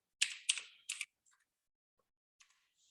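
A few close computer keyboard keystrokes, three sharp taps in quick succession followed by softer faint clicks, in a quiet room.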